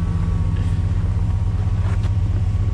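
A 2003 Ford Mustang drift car with a manual gearbox idles close by, a steady low engine rumble with no revving and no voices.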